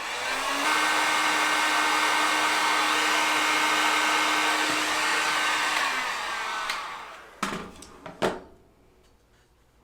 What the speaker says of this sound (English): Now I'm going to take the heat gun and I'm going to go ahead and dry them up to make short work of this.